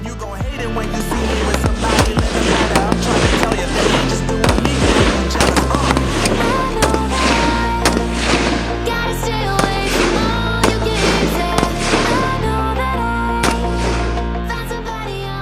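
Indonesian Navy soldiers of Lantamal 14 fire long-barrel rifles at shooting practice, sharp reports cracking in dense, rapid succession throughout, loud and close, over a tonal background.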